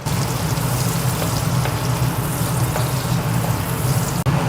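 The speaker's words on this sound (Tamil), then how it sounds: "சீரகம் பொரியட்டும்." Cumin seeds and sliced large onion frying in hot oil in a pan, a steady close sizzle with a low bubbling hum that runs continuously without pause.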